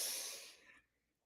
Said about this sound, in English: Okay, another deep breath in